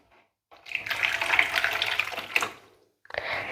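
Warm water poured into a glass for pizza dough, a short splashing stream that stops, then briefly resumes.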